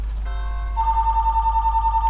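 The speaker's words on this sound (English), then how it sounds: "That's my phone." A phone rings nearby during a playthrough of Superbrothers: Sword & Sworcery EP, a bright electronic tone that starts and holds steadily over a low background hum.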